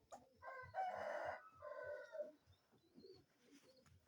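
Kienyeji chickens on a farm: a rooster crows loudly and nearby hens cluck over a continuous low rhythmic background thrum.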